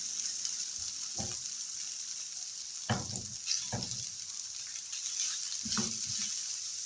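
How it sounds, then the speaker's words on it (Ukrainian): Soft, steady sizzle of carrots frying in a pan over low heat with sausage, with a few scraping stirs from a utensil breaking through the hiss. "і на невеличкому вогні хай смажиться."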